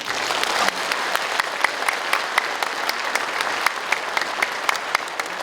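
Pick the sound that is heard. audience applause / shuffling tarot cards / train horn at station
audience applause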